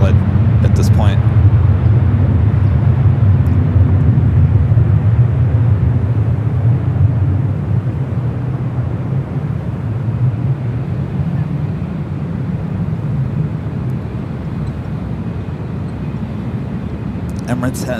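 Continuous loud roar of an Emirates airliner at San Francisco airport, a broad jet rumble that eases slightly midway and persists throughout, with some wind buffeting on the microphone.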